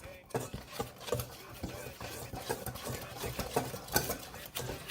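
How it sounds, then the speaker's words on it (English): Dry cookie ingredients being whisked together in a bowl: quick, uneven scraping and tapping strokes close by, in a rapid irregular rhythm, with faint room noise and no clear talk over it. "now we whisk this together and set aside"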